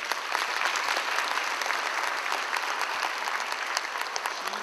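Conference audience at York College applauding, a dense, sustained wash of many hands clapping together, loud and even from start to finish with no talk over it.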